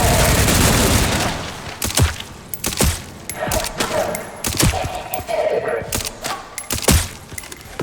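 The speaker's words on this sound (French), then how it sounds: "Le mec il bourre les balles comme si c'était la manivelle rouillée." Rapid gunfire in the video game Resident Evil Requiem: a dense burst of shots gives way to uneven cracks and thuds, some fast in clusters and some spaced apart, loud and close.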